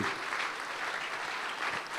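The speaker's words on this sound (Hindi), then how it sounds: "जब तक गिफ्ट खत्म नहीं होंगे तब तक तालियां बजती रहेंगी," Steady applause from a crowd at a Christmas carol program fills the whole stretch, an even patter of many hands clapping without a break.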